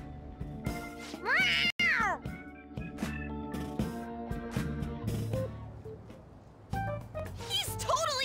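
A cat meows in Persona 5 Royal, a bright rising-and-falling cry standing out over game music and character voices, with a second shorter mew near the end.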